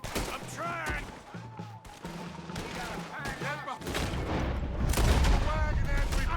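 Gunfire bursts in a horse-riding western video game during a wagon shootout, with booming shots and crashes that build toward a dense, loud barrage. Voices shout over the first half.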